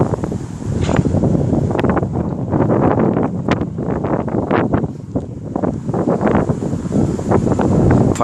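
Powerful gusts from a passing thunderstorm in Corpus Christi, Texas, batter nearby trees, producing a loud, sustained windy roar with repeated surges and rustling, close to the microphone and without talk.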